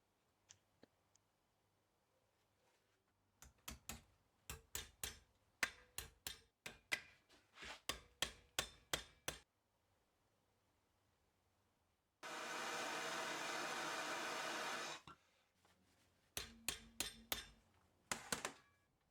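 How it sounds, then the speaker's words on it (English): A heated stainless steel bar is hammered into shape on a simple jig in a workshop: bursts of sharp metallic hammer blows in quick runs, interrupted by a few seconds of steady roaring heat-torch or blower noise, then more strikes. "apply some heat, and with a bit of help from my hammer, bend it to shape."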